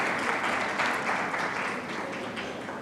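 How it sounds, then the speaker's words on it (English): Audience at The Hindu Huddle conference giving a round of applause for a speaker, steady moderate clapping from a hall that holds evenly and tapers slightly at the end. "A round of applause, ladies and gentlemen,"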